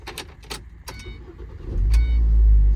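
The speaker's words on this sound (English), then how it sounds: "let's go ahead and turn the vehicle on" A 2010-2013 Ford Transit Connect is switched on. Keys jangle and click in the ignition, then the engine cranks and catches into a loud, low, steady idle close by.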